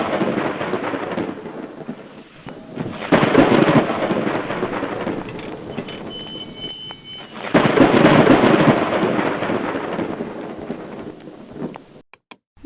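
Heavy rain pours steadily while loud rumbling thunder swells twice, rolling and fading before a few sharp clicks at the end.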